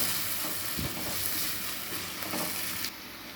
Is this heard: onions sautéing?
yes